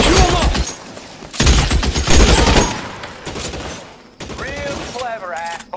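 Repeated gunfire from a shootout in the LA Noire video game, loud bursts of shots in two heavy clusters, with game voices shouting over and between them.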